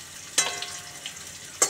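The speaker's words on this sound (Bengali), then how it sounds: "এবার আলু দিয়ে দিলাম পাতলা পাতলা করে কাটা" Thinly sliced potatoes dropped into a sizzling pan of curry, with two sharp crackling bursts of frying a little over a second apart over a soft, steady sizzle.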